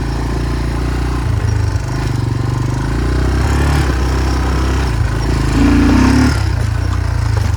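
A Yamaha Tri Moto 200 three-wheeler engine runs steadily at idle, a loud, close, continuous low chugging that rises briefly in pitch and intensity near the end, with no talking over it.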